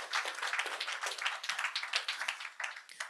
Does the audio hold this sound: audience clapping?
yes